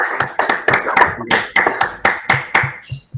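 Audience applause closing an academic presentation, a burst of hand claps with an uneven rhythm that fades out after about three seconds, with no talking over it.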